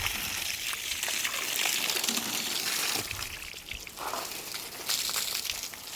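Water poured over a cement building to cure it, a steady splashing and trickling stream throughout with small fluctuations.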